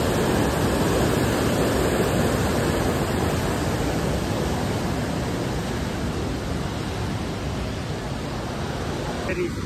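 A mountain river on a trek route toward Shey Phoksundo Lake in Dolpa rushes in a loud, steady roar that fills the whole stretch without letup, with faint speech under the water.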